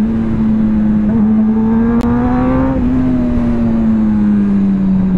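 A Kawasaki ZX10RR sport motorcycle engine holds a loud, steady drone with a slowly rising pitch as it pulls, continuous and close throughout with no talking.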